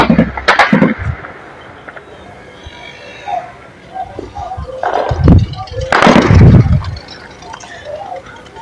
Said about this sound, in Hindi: तो ये फायरिंग हो रही है।